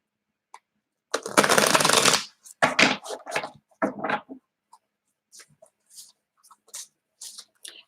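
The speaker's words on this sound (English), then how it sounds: "Okay, so I'm gonna shuffle my cards." Tarot cards being shuffled close up, a long riffling burst followed by several shorter shuffles and scattered light card taps, with no talking.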